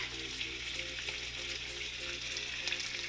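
Bacon fries in a hot skillet, a quiet steady sizzle broken by scattered sharp pops of grease, heard close with no one speaking.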